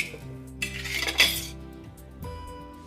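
Spoon scraping and clinking in a pan while sugar is stirred into a tomato gravy for shahi paneer, a few close metallic rattles and scrapes bunched together, with no talking.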